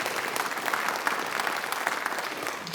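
Theater audience at a creative sector summit applauding panelists, a dense and steady round of clapping throughout, moderately distant and without talk.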